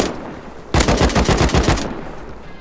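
Rapid automatic gunfire from a firearm in the survival game Rust, a loud burst of about a dozen close shots in quick succession that ends abruptly, with quieter ambient noise before and after.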